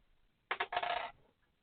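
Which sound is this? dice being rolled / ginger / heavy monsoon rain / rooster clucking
dice being rolled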